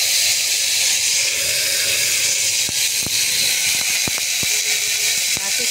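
Chili tempering and mixed vegetables sizzling in hot oil in a home kitchen, a steady close hiss and crackle running throughout with a few sharp pops, and no speech.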